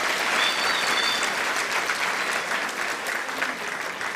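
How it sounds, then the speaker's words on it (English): A graduation ceremony audience in Windhoek claps at length, a dense, steady wash of applause that eases off slightly toward the end, with no voices over it. "let's give him another round of applause"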